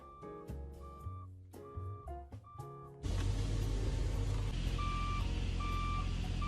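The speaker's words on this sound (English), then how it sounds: "My dad thought it would be funny to put one of the alarm things that go off whenever a big truck is backing up, and he attached it to my brakes." A truck-style reversing beeper wired to a car's brakes gives a series of evenly spaced electronic beeps. A loud, dense roar then takes over midway, with the beeps still sounding through it.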